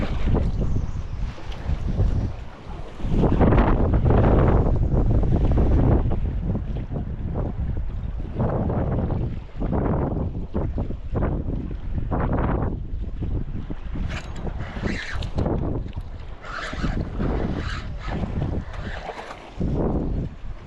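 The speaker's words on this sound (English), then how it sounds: "the wind kicked up dramatically" Strong gusting wind roaring over a boat while fishing in saltwater off New Jersey, loud rushing buffets pounding the microphone in uneven surges for the whole stretch.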